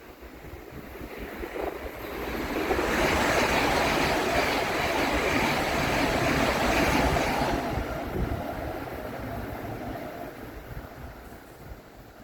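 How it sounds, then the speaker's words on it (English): A fast train roars through a station at speed, a broad rushing rumble swelling over a few seconds, holding loud, then fading away into background hum. "there is a fast train coming"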